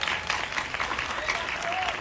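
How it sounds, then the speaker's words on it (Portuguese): Audience applause at a youth church podcast event, a steady patter of clapping throughout with a murmuring crowd underneath. "Uma salva de palmas."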